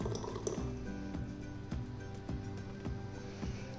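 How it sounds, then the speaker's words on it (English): Irish country house vegetable soup is poured into a serving dish, heard as a soft, continuous liquid gurgle with faint repeated splashes and drips at close range. "We're going to pour it into our serving dish."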